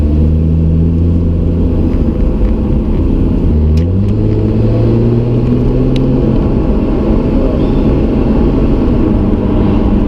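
A Lotus Evora GTE driving on the road, with a loud, steady engine drone and tyre rumble inside the cabin and a brief dip in pitch as the revs change.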